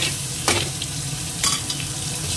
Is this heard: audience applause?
no